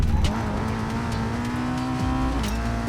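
A Ferrari engine drones steadily in the Racing Master racing game, a sustained tone that shifts pitch between gears, with faint tire noise, loud and close throughout.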